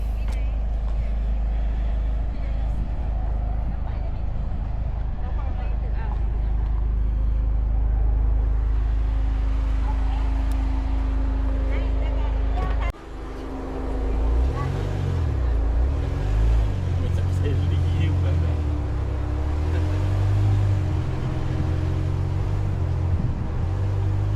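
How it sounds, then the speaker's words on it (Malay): A car engine idles after being started at a campsite, a steady low rumble throughout with a brief drop partway and a lower, wavering drone afterward, loud and close. "kereta dah start enjin dah"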